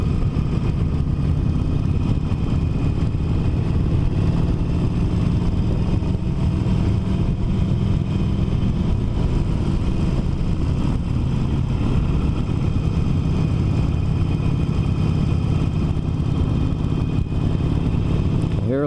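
A Harley-Davidson 48 motorcycle engine runs continuously while riding, a loud, dense low rumble with a steady ticking texture and wind noise throughout, no voices.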